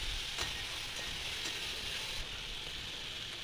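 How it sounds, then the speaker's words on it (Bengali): Ridge gourd frying in a pan with turmeric and cumin powder, a steady close sizzle with occasional stirring scrapes, no voices. "এবার দিয়ে দেবো হলুদ গুঁড়ো, জিরে গুঁড়ো দিয়ে আরেকটু ভেজে নেব"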